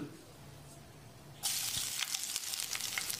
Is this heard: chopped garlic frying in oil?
yes